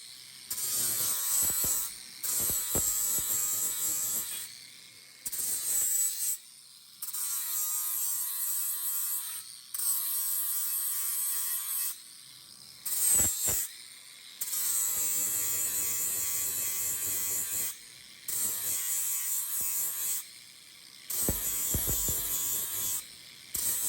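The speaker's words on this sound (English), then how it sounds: "Let's grind it and see what we got." Angle grinder working over thin 14-gauge steel weld tacks on a tool box build, loud high whining bursts of grinding separated by short pauses, about eight passes in a row.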